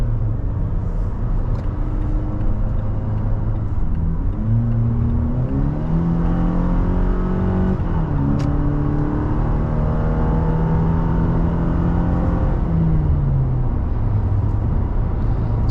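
A 2022 Toyota Tacoma with the 2.7 engine in sport mode accelerates on a highway, its engine drone climbing in pitch, dropping with two downshifts, then rising again steadily and loudly, with no talk.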